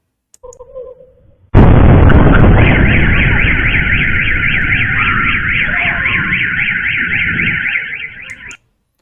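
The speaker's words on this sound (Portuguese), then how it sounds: "deu para ver que foi uma grande explosão ali na região do porto ali de Azov" Recorded footage of an explosion at the port of Azov: a sudden massive roar erupts and holds for several seconds, with a wailing car alarm rising over it, then cuts off.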